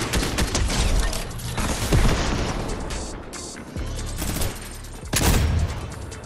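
Gunfire in the video game Fortnite, loud bursts of shots and rapid fusillades in clusters, with heavier blasts near the two- and five-second marks and short gaps between.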